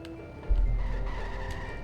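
A car in The Simpsons: Hit & Run slides into a handbrake skid, a loud abrupt rush of engine and tyre scrub that starts suddenly and holds steady for over a second, with no talking.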